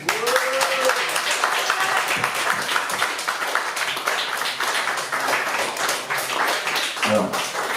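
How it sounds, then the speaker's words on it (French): Concert crowd at La Zonmé in Nice applauds steadily and loudly in a dense wash of clapping, with a brief voice or whoop near the start and another near the end. "On peut applaudir très fort Pascal."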